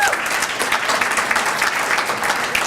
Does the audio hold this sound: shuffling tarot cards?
no